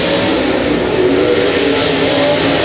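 Race car engine roaring past at Humboldt Speedway during King of America qualifying heat, loud and sustained with a steady dense drone throughout, no talk over it.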